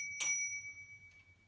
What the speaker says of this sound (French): On a également une sonnette